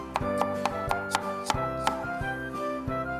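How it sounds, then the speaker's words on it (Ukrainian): A knife chops onion into half rings on a board, about a dozen sharp, evenly spaced taps in quick rhythm, close and clear over faint background hum. "Нашу цибульку, очі щіпульку нарізаємо напівкільцями"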